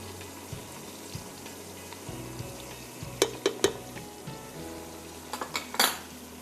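Mince with garlic, ginger and a bay leaf frying in a pan for a stew, a soft steady sizzle under clinks and scrapes of a utensil against the pan, with a cluster of louder metallic knocks near the end.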